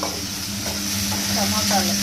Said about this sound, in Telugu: టమోటాలు బాగా వేయించాలన్నా